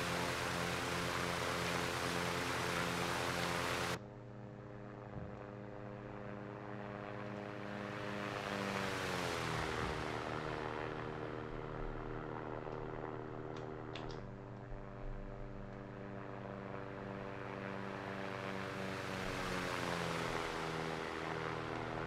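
A propeller airplane in the X-Plane 11 flight simulator drones steadily while approaching runway 10 at Darrington Municipal Airport, its engine tone rising and falling in pitch across a long continuous stretch with no one talking.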